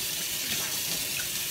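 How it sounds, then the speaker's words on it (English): Tap water running steadily over parboiled rice as it is washed by hand in a sink, a continuous close splashing hiss with no talking. "take that rice and run some water on it"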